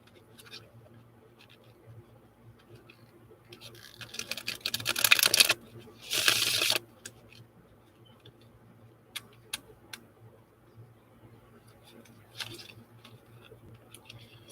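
Tarot cards shuffled during a full moon reading session, two loud crisp riffling bursts in the middle of a quiet room with soft scattered taps and clicks before and after.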